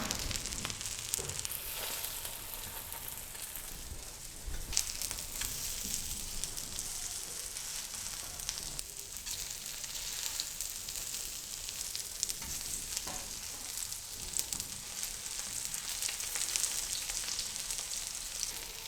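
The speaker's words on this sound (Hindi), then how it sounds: "ब्रेड क्रम्स लगाने के बाद हम इसको तवे पे डालेंगे।" Breadcrumb-coated tikkis fry on a hot tawa with a constant, close sputtering sizzle and crackle, steady throughout and unaccompanied by voices.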